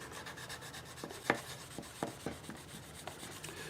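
Polishing compound rubbed by hand over the nitrocellulose lacquer finish of a soprano ukulele, a quiet close-up rhythmic rubbing with a few light scuffs and taps.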